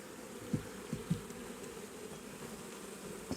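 Honeybees crowd a hive frame with a soft, continuous buzzing hum, broken by a few faint low knocks near the start.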